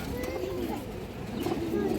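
Mukhshi (Musaldam) pigeons coo in soft, low, throaty tones at close range over a faint background murmur.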